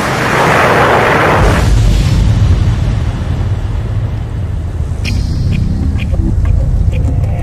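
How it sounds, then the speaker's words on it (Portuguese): A loud, deep meteor-impact explosion bursts out, then rolls into a long rumbling roar with scattered crackles as it fades. "e quando atingisse o solo haveria uma grande explosão."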